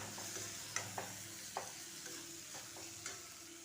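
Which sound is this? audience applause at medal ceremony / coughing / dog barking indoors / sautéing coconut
sautéing coconut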